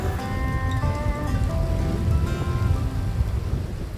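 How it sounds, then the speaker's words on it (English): Rain falling outdoors among trees beside water in the Scottish Highlands on a cold winter evening, a steady broadband hiss under faint musical tones, with no talking. "even when it's raining."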